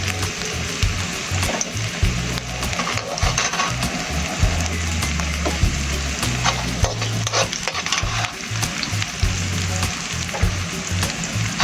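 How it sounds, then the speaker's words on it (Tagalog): Onions frying in a pan for a chicken and papaya coconut stew, with loud continuous sizzling and rapid, steady stirring scrapes, while a low hum runs underneath and no one talks. "Haluin lang natin mga idol ang ating sibuyas. Para siya ay maluto mga idol."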